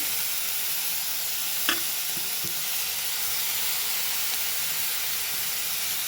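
Onion, tomato and green chilli sauté in a kadai pan with a steady, close sizzle and hiss throughout, with a few faint clinks of stirring partway through and no talking.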